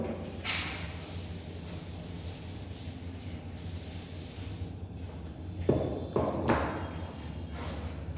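Chalk writing is rubbed off a board during a chemistry class: a steady, soft, scratchy rubbing that runs throughout, with a few louder swipes and thumps near the end, close and fairly quiet.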